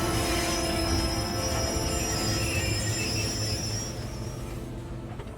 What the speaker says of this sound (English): train stopped pretty quick